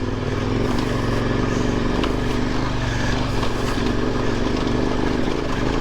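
A KTM motorcycle engine chugs and revs steadily at low speed, loud and close, with faint knocks from a rough rocky trail underneath.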